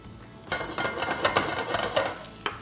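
Onion hits a hot pan and starts sautéing, giving a steady close sizzle with scraping stirs of a utensil against the pan.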